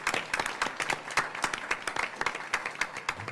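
Scattered applause from a modest group at a board of education meeting, with individual hand claps clearly distinguishable in an uneven, sparse rhythm at fairly low volume.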